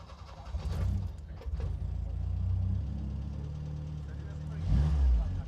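A Citroen LNA, a small 1980s French budget hatchback, starts up and settles into a steady, throbbing idle, loud and close. A brief rev comes near the end.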